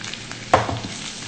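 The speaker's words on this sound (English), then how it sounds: "now I'm going to add this turmeric powder" Turmeric powder goes into ginger garlic paste frying in a pan. A low sizzle is cut by one brief, sharper stir or scrape midway, close and fairly faint, with no voices.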